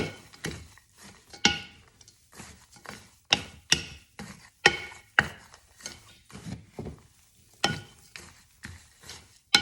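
Granola ingredients being stirred in a bowl with a big spoon, giving a run of soft, irregular scraping and rustling strokes, fairly quiet and close, with no talking.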